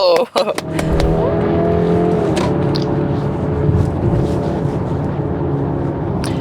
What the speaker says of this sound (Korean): 이게 스포츠 모드로 풀악셀을 밟으니까 아무래도 웅 거리는 소리는 어쩔 수가 없네요